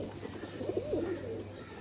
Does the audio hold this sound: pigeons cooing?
yes